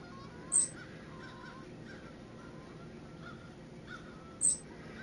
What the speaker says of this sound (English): Tempted to shoot one of those crows right there.